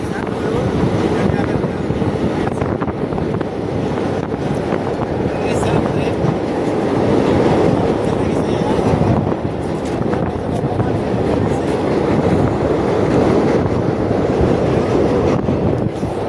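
A train crossing the Pamban rail bridge over the sea near Rameswaram, a loud continuous rumble with clattering wheels heard close by, with people talking over it.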